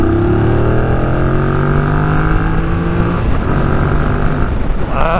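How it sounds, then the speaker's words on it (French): A 2025 Yamaha MT-07 motorcycle in its A2 version, warmed up, accelerating hard: a loud, close engine note climbing steadily in pitch through the gears, with a brief shift near the end and no talk. "On va voir ce que ça vaut à l'accélération."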